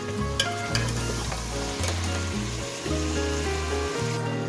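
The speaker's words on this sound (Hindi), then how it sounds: "अब हम इसको अदरक लहसुन के साथ 2 मिनट तक भूनेंगे।" About 700 grams of meat sizzles steadily in a pan with ginger and garlic during beetroot gosht cooking, an even crackling fry with occasional stirring scrapes and no talk.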